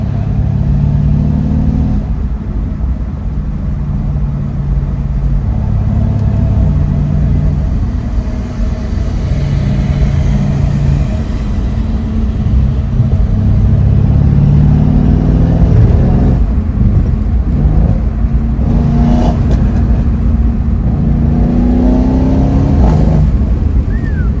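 A Mercedes C63 S Cabriolet engine revs loudly and steadily for the whole stretch, its deep rumble swelling and easing with a few higher surges near the end.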